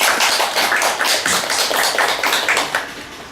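Audience applause welcoming a speaker at a Korean policy seminar, dense steady clapping from a room of people throughout, fading slightly at the end.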